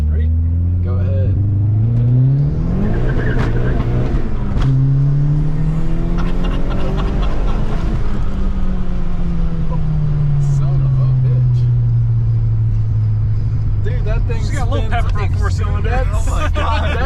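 A turbo-swapped Chevrolet Cobalt's engine revs loudly and climbs steadily in pitch, easing off and rising again as it accelerates hard through second gear, with a voice talking over it.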